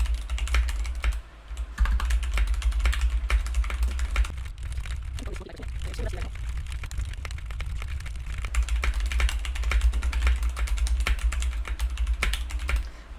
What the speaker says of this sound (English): Now let's try to do the type test.